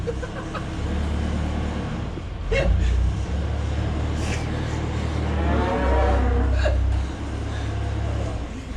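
Cattle moo in long, low calls, several in succession nearby, with a vehicle idling and faint talk in the background.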